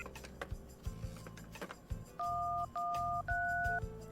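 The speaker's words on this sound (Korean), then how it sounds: "여기저기 전화를 시도했지만 전화기는 먹통이었다." Telephone keypad tones from a phone in a fog-bound inn in a Korean audio drama, a quick run of bright dialed beeps, each held briefly, following some handling clicks, close and clear with no talk.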